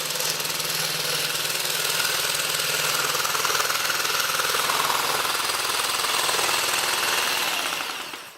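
A power saw set to an up-and-down cutting motion runs steadily through a dried birdhouse gourd, producing a loud, continuous buzzing rattle for several seconds before winding down at the end.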